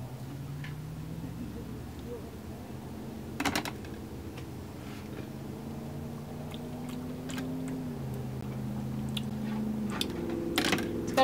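Someone chews a bite of honey mango up close, giving soft wet crunches and occasional sharper bites over a steady low hum, while speech-like tones run faintly underneath.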